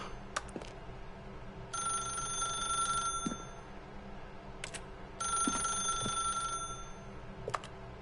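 An old-fashioned telephone rings in the video game The Stanley Parable, two long trilling bell bursts separated by a pause, quiet against a faint ambient hum with occasional soft clicks and thumps.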